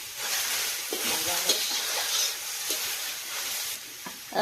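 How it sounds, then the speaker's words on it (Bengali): Gourd leaves and garlic frying together in a pan, a continuous close sizzle with soft scraping of stirring throughout. "আর যে লাউ শাকগুলো ঢালি দেওয়া আছে না এগুলো ভাজুন।"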